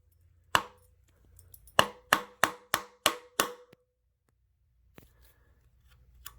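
A part on a Concept 2 rower's stainless steel monorail and seat wheel glide is struck hard enough to break a rivet: one sharp, close smack, a pause, then six rapid, evenly spaced blows, each crisp and ringing, with near silence between.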